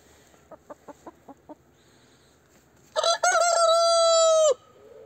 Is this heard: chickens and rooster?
yes